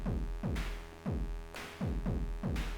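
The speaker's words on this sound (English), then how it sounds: "now it's time for the bass, right? So we'll take a saw wave" A deep, buzzy saw-wave synth bass pulses in a steady rhythm, each note dropping in pitch and ringing out in a reverberant wash.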